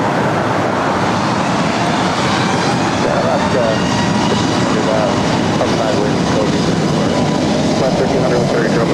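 Jet airliner taking off from runway 24 right at LAX, a loud continuous roar of engines that swells and holds throughout, mixed with nearby road traffic and a voice talking.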